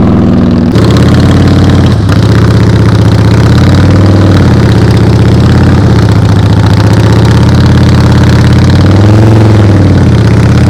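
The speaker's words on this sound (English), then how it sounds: "This motorcycle just sounds good." A motorcycle engine idles and putters at low speed during slow-speed riding practice, loud and close, its throttle held steady with gentle rises and dips in pitch throughout, with no talking.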